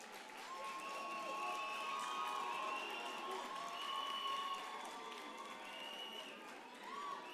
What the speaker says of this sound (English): May we please give them a big round of applause to thank them.